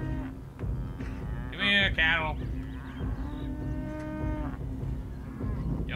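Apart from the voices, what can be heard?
cattle mooing in GTA V roleplay video game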